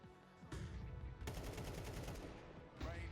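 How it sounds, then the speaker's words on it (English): Wall-bang gunfire in Counter-Strike 2 during a pro FaZe vs. Spirit match: loud rapid shots fired through cover, two dense bursts with a short pause, then another burst starting at the end. "Brokey tries a wall bang."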